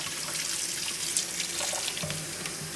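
A kitchen tap runs steadily while a Bosch dishwasher part is washed under it, a close, constant splashing stream with a few brief clinks and shifts in the flow.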